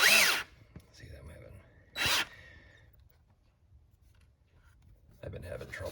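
A drill working out stripped cylinder head bolt threads on a Hyundai 3.3/3.5 engine through a steel drill-bit guide, sounding as two short, loud whirring bursts and then a longer one, with a voice talking between them.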